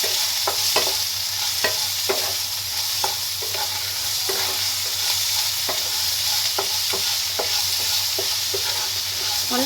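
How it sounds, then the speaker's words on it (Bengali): Chopped onion and tomato frying together in a pan, a continuous sizzle broken by regular scraping strokes of a stirring spoon, close and steady with no talk. "টমেটো পেঁয়াজও আমি একসঙ্গে ভেজে নেবো"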